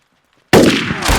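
A single sniper gunshot in a war film bursts suddenly out of near silence, a loud close blast with a booming tail that rings on for the rest of the moment.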